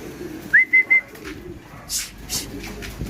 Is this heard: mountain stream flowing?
no